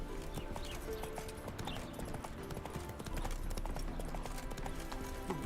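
In The Witcher 3, a horse's hooves clip-clop in a steady, quick rhythm throughout, fairly quiet and mixed with game ambience.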